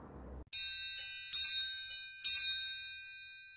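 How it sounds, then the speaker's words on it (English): A metal triangle, an idiophone, is struck three times at even intervals, each strike ringing bright and clear before fading, after a short burst of other sound at the start. "for example, the triangle."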